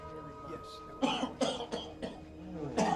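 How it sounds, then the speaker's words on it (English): A run of several sharp, close coughs in quick succession, with short pauses between the bursts. "Starts with a cough."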